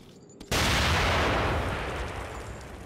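A grenade detonating in The Evil Within, a sudden loud blast after brief quiet, followed by a long roaring rumble that slowly fades.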